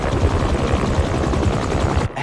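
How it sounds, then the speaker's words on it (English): Helicopter rotor blades in the Marvel's Spider-Man 2 game thump in a fast, steady low pulse, loud and close, with engine whine layered over the beat and no voices. "a helicopter's blades"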